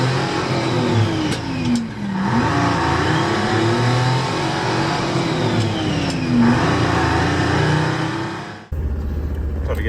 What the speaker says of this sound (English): Let's go for a drive in the Mercedes